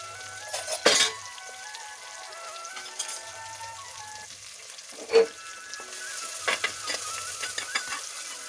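Sliced onion, green chilies and curry leaves with a pinch of fenugreek sizzle in hot coconut oil, a steady crackling fry with a loud splattering burst early on and another pop midway, plus occasional scraping stirs.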